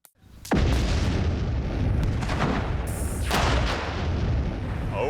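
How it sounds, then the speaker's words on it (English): Fifty pounds of dynamite detonates in a sudden, massive boom, then a loud rolling rumble that roars on for several seconds. "The dynamite explosion was, well, dynamite."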